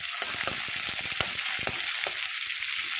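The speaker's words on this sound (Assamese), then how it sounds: "এইখিনি অকণমান ৰঙচুৱা হোৱালৈকে অকণমান ভাজিলোঁ।" Onions sizzle and crackle steadily in a hot pan as they fry until reddish, with scattered sharp pops and the occasional scrape of stirring; no voices.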